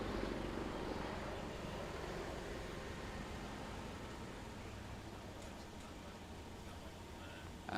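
A Jamaica Defence Force military helicopter passes over National Heroes Park during a ceremony, its broad, steady rotor and engine roar filling the air continuously and fairly evenly before easing slightly toward the end.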